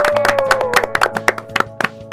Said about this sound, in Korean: 일단 박수 한번 칠까요?